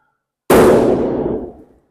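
A single loud, sharp burst as a balloon held over a flame pops, a sudden close bang after near silence, its ring decaying over about a second.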